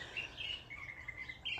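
Wild birds chirp outdoors on a quiet morning, with a few short, high tweets repeating at a distance over a faint background hum.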